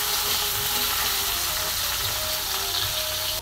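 Onion and tomato frying in a pan after green chillies and garlic for methi bhaji, giving a steady, even sizzle close by with no talk.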